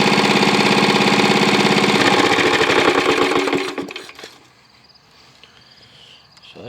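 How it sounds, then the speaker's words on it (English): Lawnmower engine rebuilt with a JB Weld piston and crankshaft journal and a steel head without cooling fins, running loud with a rapid knocking rattle, then shutting down abruptly and leaving quiet ambience. "So a little bit of knocking going on, but I did indeed cut the grass."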